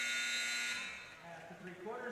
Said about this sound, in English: No whistle before the buzzer